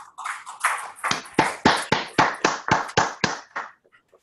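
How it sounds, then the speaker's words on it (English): A crowd at a motivational speaking event breaks into applause, a dense burst of clapping that swells, holds with rhythmic peaks, then tapers off over about four seconds. "Give yourselves a round of applause for being here today."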